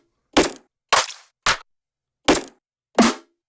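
Five separate noisy snare hits synthesized on an Elektron Digitone 2 snap out one at a time with short bursty tails and silence between them, crisp and close.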